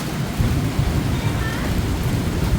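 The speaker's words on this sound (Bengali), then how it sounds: "উঠানোর পরে বৃষ্টি নামছে" Steady heavy rain pours outdoors with a deep low rumble like distant thunder, a loud continuous wash with no speech over it.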